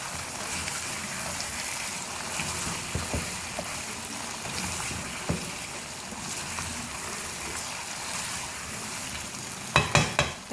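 Mutton and taro root frying in a pot over medium flame: soft, continuous sizzling with occasional stirring clinks and scrapes, a few louder knocks near the end.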